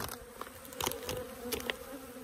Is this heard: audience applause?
no